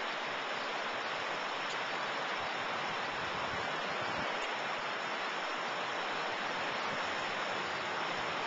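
Floodwater from the flooded Housatonic River near Lake Housatonic rushes steadily, up to a road, as a constant broadband roar without pauses, with no voices heard.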